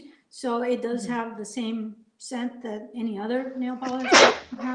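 One sharp, loud sneeze bursts out near the end, right after a stretch of conversational speech about nail polish.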